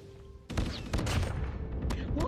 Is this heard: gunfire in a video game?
yes